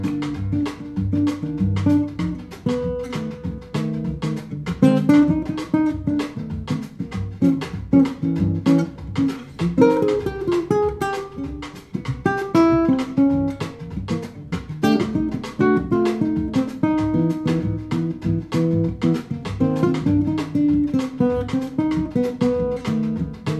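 A jazz recording plays: brisk, swinging piano with bass and drums in a steady, busy rhythm, continuous and moderately loud throughout.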